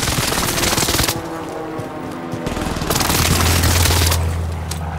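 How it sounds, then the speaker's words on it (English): An enemy precision airstrike in Call of Duty Warzone Pacific on Caldera, a loud, dense rumble of explosions and rapid blasts that rolls continuously, dips briefly, then swells again under a low drone. "Precision airstrike, stay alert."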